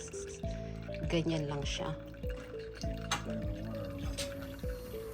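Homemade iced coffee drips and trickles through a handheld strainer, with soft liquid patter under someone speaking over upbeat background music.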